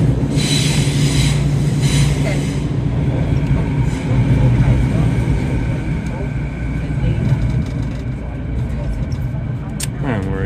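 A Vancouver SkyTrain-style train rumbles loudly between stations near Olympic Village, with steady roaring wheel and motor noise, brief hissing bursts early on and a faint squeal near the end.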